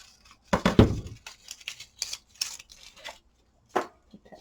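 Scissors snip through vellum paper for a craft ephemera tag in a quick run of close, crisp cuts, and one more cut follows after a short pause.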